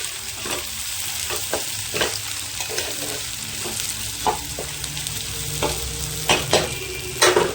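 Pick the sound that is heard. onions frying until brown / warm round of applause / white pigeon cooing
onions frying until brown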